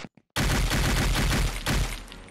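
Rapid, loud gunfire from a pistol in an Unreal Engine 5 zombie shooter game bursts in after a couple of faint clicks, fires in a fast, dense volley and briefly pauses near the end, with no one talking.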